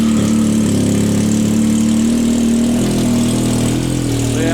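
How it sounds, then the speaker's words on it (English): A Yamaha YXZ side-by-side engine runs rough after being flooded in a river, a loud, steady, close idle with a throbbing low drone throughout. "So yeah, it sounds like a derby car now."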